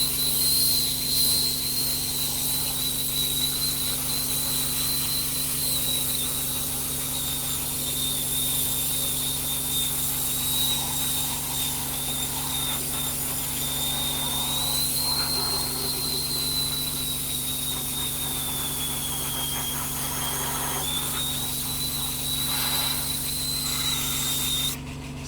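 A steady airy hiss from an airbrush spraying paint on an RC car body shell, with a thin, high whistle riding on top like a kettle, wavering slightly in pitch, continuous and close.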